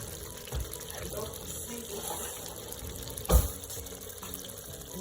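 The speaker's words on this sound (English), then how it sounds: "I'm adding the meat stock" Meat stock is poured into a pot of smoky Nigerian jollof rice, a low, faint liquid gush and splash that is steady throughout, with a brief louder splash near the end.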